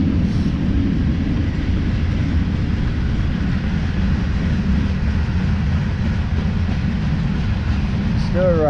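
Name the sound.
train running alongside the trail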